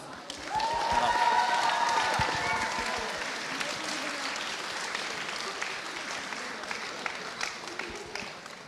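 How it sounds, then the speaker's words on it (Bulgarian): An audience applauds prize winners at a costume performance contest, a dense burst of clapping swelling quickly and then thinning out into a lighter patter, with some voices mixed in beneath it. "така че отново аплодисменти"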